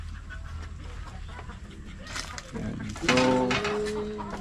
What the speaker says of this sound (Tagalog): May nangingitlog pala kayong manok dito.